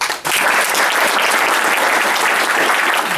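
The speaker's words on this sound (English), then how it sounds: "can we just start by getting a big round of applause for our first speaker, Tim Flapper." Loud, dense applause from a conference audience welcoming the first speaker at a Docker tech talk, steady and sustained after a brief quieter start, with no voices over it.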